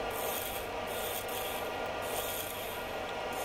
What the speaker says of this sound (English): Getting up close here, still with the bowl gouge, taking my time, making sure I don't get any catches